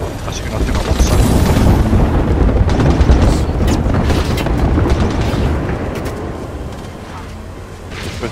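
A bomb going off in Apex Legends Season 19 ranked play, a loud rolling explosion with heavy low rumble. It swells early and then slowly fades into a lingering roar.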